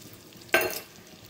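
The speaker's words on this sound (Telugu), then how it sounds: "కడాయి పెట్టుకొని 2 టేబుల్ స్పూన్ ఆయిల్ వేసుకుని ఇప్పుడు హింగ్ని ఫ్రై చేసుకుందాం." Asafoetida dropped into two tablespoons of hot oil in a kadai, giving one short sharp sizzle that flares up and fades within a moment, with no talk.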